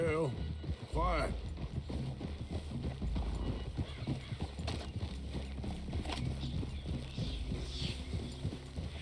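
Horses' hooves clip-clop steadily in Red Dead Redemption 2, with a brief whinny near the start, while a rider talks over the hoofbeats throughout.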